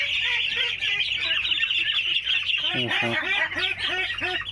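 Local and white Pekin ducklings squawk and quack close by, many overlapping calls rising into a busy cluster of honking cries partway through.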